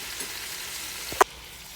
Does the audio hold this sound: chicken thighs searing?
yes